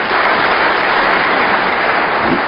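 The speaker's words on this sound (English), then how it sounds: "A round of applause" Dense, loud applause from the crowd at a 2008 World Snooker Championship semi-final between Ali Carter and Joe Perry, an even, continuous wash of clapping with no voices.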